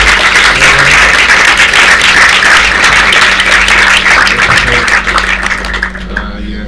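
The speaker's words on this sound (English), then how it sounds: "Give him a round of applause." Sustained, loud audience applause fills a film screening venue for a short film's maker, a dense wash of clapping that holds steady for several seconds before tapering off at the end.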